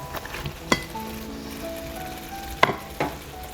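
Egg roast masala sizzles in a pan as it is stirred, with a steady frying hiss broken by a few sharp clinks and scrapes of the spoon against the metal.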